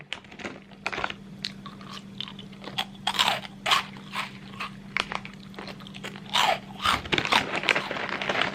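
Miao Miao brand squid crackers are crunched and chewed close up, with repeated crisp bites and crackles in an uneven rhythm over a faint steady hum.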